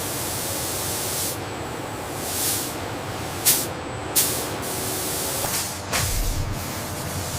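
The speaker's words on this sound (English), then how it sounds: "The robotic arm applies the thick, dark gray conductive ram base coat." A robotic arm sprays a thick, dark gray conductive base coat paint onto an aircraft in a factory, a steady hiss with several short sharp bursts of spray.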